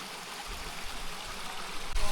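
Stream water flowing steadily through a mountain oasis in Morocco, a continuous broadband rush and trickle at moderate level, with a brief louder splash near the end.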